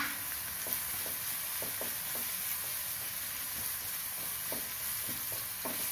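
Chopped tomato sautéing in a pan, a soft continuous sizzle broken by a series of light spoon stirs and scrapes at an uneven pace.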